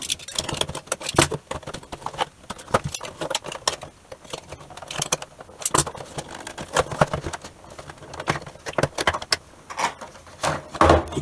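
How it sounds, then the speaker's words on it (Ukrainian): Cardboard Funko Pop figure box being eased open by hand, with dense crinkling, tapping and plastic-packaging rustle throughout, close and fairly loud, no talking. "Обережно спробуємо її відчинити і не зіпсувати коробочку"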